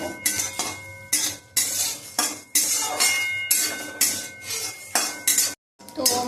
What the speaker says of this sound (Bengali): এটা একটু শুকনো কলায় হালকা করে ভেজে নেব